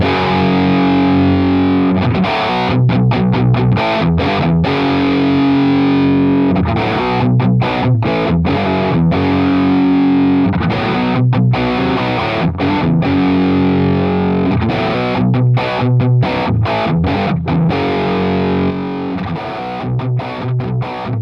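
A heavily distorted electric guitar plays loud, dense chugging riffs through a BIAS MINI amp with different power-amp tubes, steady and up close, with sharp rhythmic stops and no speech.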